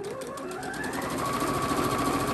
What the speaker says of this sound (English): and then sew down my other side.